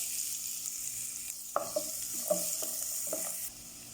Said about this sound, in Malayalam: ഒരു ക്യാരറ്റ് ഗ്രേറ്റ് ചെയ്തത് അതും കൂടെ മിക്സ് ചെയ്യുക